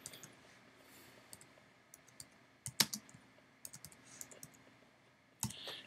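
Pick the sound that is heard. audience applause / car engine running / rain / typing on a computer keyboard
typing on a computer keyboard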